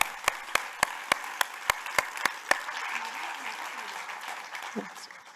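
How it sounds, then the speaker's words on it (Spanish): An audience at a plenary session applauds, opening with a run of evenly spaced loud claps before the clapping spreads into a dense, fading crowd ovation. "un fuerte aplauso para las nuevas generaciones"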